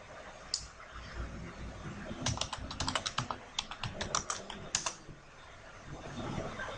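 Rapid keystrokes on a computer keyboard while entering a call-forward-busy command on a Cisco phone system, a clear burst of close clicking that starts sparse, speeds into a dense run, then trails off.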